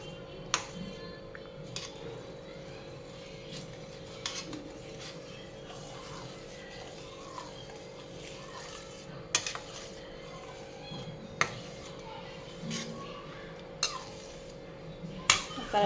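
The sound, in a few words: stirring rice semolina in a pot on the stove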